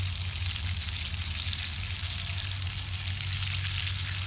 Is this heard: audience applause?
no